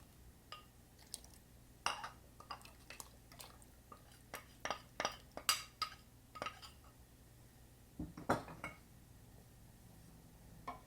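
A spatula scrapes and clinks against a pot while sweet pumpkin porridge thickened with glutinous rice flour is stirred, giving irregular light knocks and taps over a quiet kitchen hum, with no talking.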